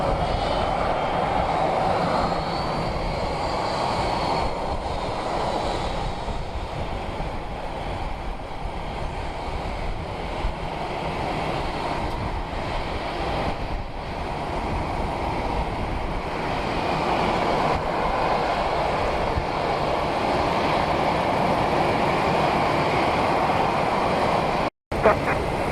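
A fixed-wing airplane takes off at Palm Beach International Airport. Its engines roar loud and steady for the whole stretch, a broad rushing drone that holds at high power and swells slightly near the end.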